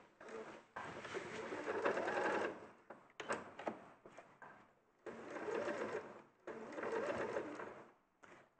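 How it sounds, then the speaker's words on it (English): A sewing machine stitches a panda quilt, running in several steady whirring bursts of one to two seconds separated by brief stops, close and clear with no talking. "I'm going to do some sewing."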